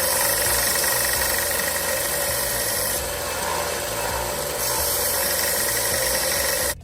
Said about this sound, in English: what I like to do is put it on a belt sander and just make it so that that is a nice flat